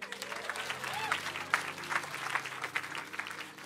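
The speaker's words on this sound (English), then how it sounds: "Clap for Brian." A church congregation at a Sunday service breaks into applause, a lively burst of many hands clapping with some scattered voices and shouts mixed in, fading slightly toward the end.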